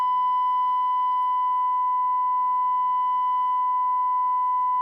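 A continuous sine test tone plays from a Hacker RP30 amplifier, steady and unbroken with added harmonic overtones from distortion, heard alone without speech.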